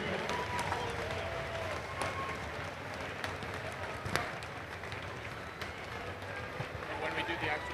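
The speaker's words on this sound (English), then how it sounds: "A round of applause for our contestants" Applause for contestants at the World's Strongest Firefighter finals in 2023, crowd clapping with sharp individual claps and cheers scattered through, while voices talk over it.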